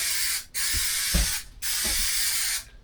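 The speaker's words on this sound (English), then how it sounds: "just like spray paint in a sweeping pattern" Two long bursts of spray paint hissing, each about a second, separated by a short pause, with faint thumps in the background.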